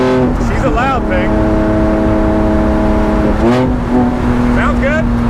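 Straight-piped Lykan Hypersport replica engine on a race track, loud and raw, revving up and easing off in repeated surges with rising and falling whine as gears change, close to the microphone.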